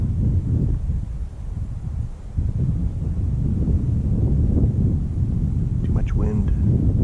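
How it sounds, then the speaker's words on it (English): Strong wind buffets the microphone on an Oregon mountainside at night during a spring turkey hunt, a loud continuous low rumble and roar with gust swells; a brief faint sound rises near the end. "Too much wind."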